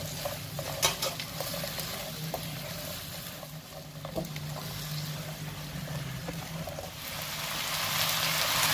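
Fried beef is stirred into a bubbling sauce for Mongolian beef, producing a continuous moderate sizzle with intermittent clinks and scrapes of a utensil against the pan.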